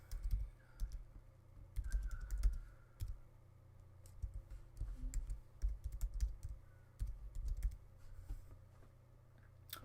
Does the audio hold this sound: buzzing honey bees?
no